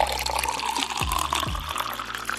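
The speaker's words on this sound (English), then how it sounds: "put them in the sink, turn on water" Water gushes from a sink tap into a bowl of keyboard keycaps, a close, continuous splashing and filling rush with a few gurgling shifts.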